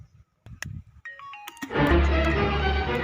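After a few faint clicks, a phone ringtone plays a short melodic phrase, then swells into a louder, fuller ringing tune.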